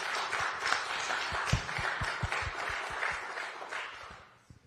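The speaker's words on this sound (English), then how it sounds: "if we could all just give them a round of applause" Applause for certificate recipients at a hybrid city council meeting: a room of people clapping steadily for several seconds, moderately close, tapering off at the end.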